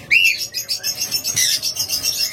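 Pet cockatiels and lovebirds chirp and whistle continuously at close range, bright overlapping tweets and trills with no voices.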